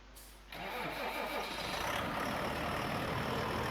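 A truck-style tractor engine cranks and catches in Farming Simulator 19, a sudden start that settles into a steady, rumbling mid-pitched idle with exhaust, close and loud throughout.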